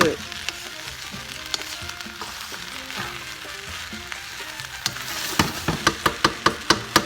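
Thai shrimp pineapple fried rice with scrambled eggs sizzling in a pan, a continuous crackling fry with light stirring, then a run of sharp rhythmic scraping taps near the end, no talking.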